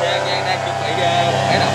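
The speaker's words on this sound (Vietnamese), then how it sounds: "Đây là máy nổ." A small engine of a motorized paraglider fitted with smoke sprayers runs at a steady drone, close and fairly loud, with a constant hum throughout.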